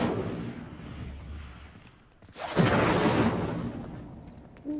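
Incendio fire spell cast in a Hogwarts video game: a quiet rumbling bed, then a sudden loud fiery whoosh-burst that roars for about two seconds and trails off, with a short sharp hit at the end.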